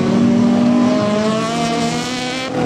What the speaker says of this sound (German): Das Auto läuft nicht ganz rund.